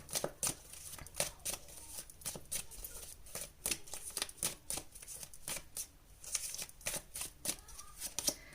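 Tarot cards shuffled and drawn by hand for a pick-a-card reading, a quiet, close run of crisp riffling flicks in an uneven rhythm.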